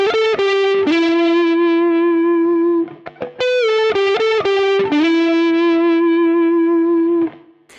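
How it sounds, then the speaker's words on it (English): Distorted, effects-laden lead electric guitar playing a repeated chorus phrase, sustained bent notes in two matching halves, loud and alone with no talking. "The first lead guitar that you hear is happening on the chorus"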